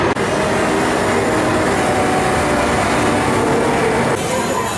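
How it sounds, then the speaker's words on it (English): Continuous loud, steady rumble and rattle of the Hogwarts Express ride at Universal, with people talking over the train noise throughout. "Why are we riding this Hogwarts Express yet again?"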